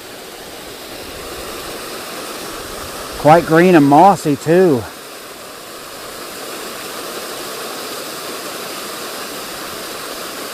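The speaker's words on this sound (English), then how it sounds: "the little tiny waterfall there." A small waterfall pours over a dam spillway at a nature center in Fredericksburg, Texas, making a steady, loud broadband rush throughout, with a person speaking briefly over it midway.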